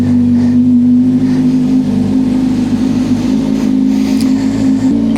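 Motorcycle engine riding at steady speed with a CARABC CarPlay unit mounted, a continuous loud drone with a strong steady hum and wind rush throughout, no talking.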